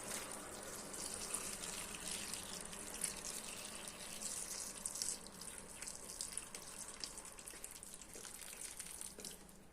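A continuous soft stream of boiled hot water pours and splashes steadily at low volume, with faint trickling and no talking.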